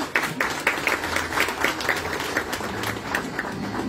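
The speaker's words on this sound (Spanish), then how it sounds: "Fuerte el aplauso también para esta joven" A graduation audience at a school ceremony applauds a young graduate, with steady, moderately loud clapping from many hands and some louder claps standing out near the front.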